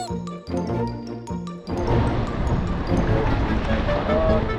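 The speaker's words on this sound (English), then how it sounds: "I just got splashed thoroughly by these waves." Ocean surf on an Irish beach, starting with a few rhythmic bursts and then a continuous loud rushing wash of breaking waves close by.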